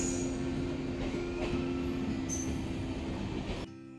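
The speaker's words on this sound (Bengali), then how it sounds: "এই হলো আমাদের ট্রেন 13147 শিয়ালদা বামনহাট উত্তরবঙ্গ এক্সপ্রেস।" The 13147 Sealdah–Bamanhat Uttarbanga Express runs along the rails with a steady rumbling roar, a faint wheel squeal and brief metallic clicks, heard up close before the noise drops off abruptly.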